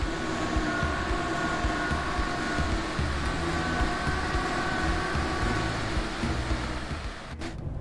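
An ICE-T tilting train runs along the left Rhine line between Mainz and Koblenz in the Train Sim World 5 game, a continuous loud rolling rumble with steady humming tones, heard alone.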